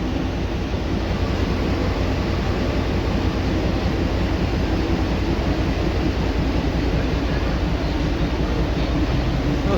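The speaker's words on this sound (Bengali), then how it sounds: "এই হচ্ছে টয় ট্রেন।" Darjeeling Himalayan toy train at a hill station, a loud continuous rumble with steady rhythmic clatter throughout, close and unbroken, with no talk.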